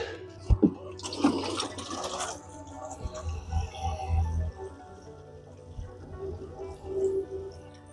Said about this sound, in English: Now we'll water it in.